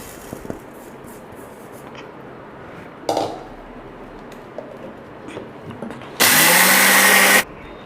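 A kitchen mixer grinder blitzes dry red chillies and roasted urad dal in one loud, steady burst of about a second, after quieter clinks and handling noises.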